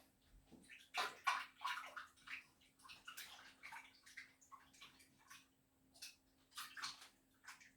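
Running water splashes as hands are washed, irregular and fairly quiet, with a faint steady hum behind it.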